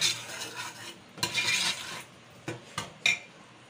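Chicken stirred in a yogurt masala over medium flame, soft sizzling broken by several spoon scrapes and clinks against the pan, close and intermittent.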